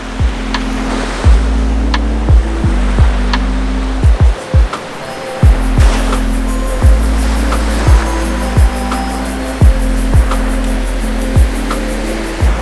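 Steady roar of ocean surf with repeated low thumps of waves breaking on a beach at a regular rhythm, no voices, a continuous wash of water throughout.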